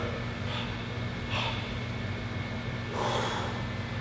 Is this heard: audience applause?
no